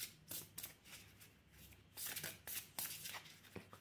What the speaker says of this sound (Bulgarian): сега от оракула Spellcasting ще изтеглим една карта, която ще бъде съвет